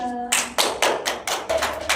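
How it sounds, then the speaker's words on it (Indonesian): Several loud, sharp hand claps in a steady rhythm, close by, from a classroom group applauding during a teaching session, with a brief hum at the start. "Tepuk tangan dulu buat Mbak Hilda."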